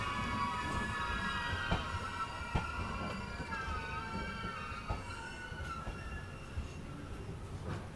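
The 17645 Secunderabad Repalle Express runs toward Nalgonda with a steady, loud rumble, occasional sharp wheel clacks and a thin metallic squeal that drifts along the track noise, with no voices.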